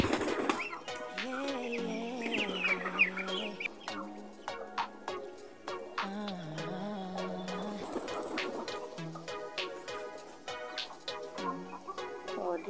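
Backyard poultry in a rural province home, soft cooing and clucking calls with intermittent wing flaps and rustling, moderately close and fairly quiet, without talk.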